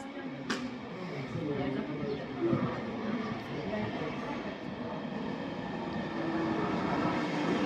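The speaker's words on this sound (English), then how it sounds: "Next leg of the journey will be the intercity, which is now arriving, coming from Maribor to Celje" Slovenian intercity train arriving on the Maribor to Celje line, a steady broadband rumble of rolling wheels and rail noise that builds slightly toward the end, heard near the platform with a brief sharp clank early on.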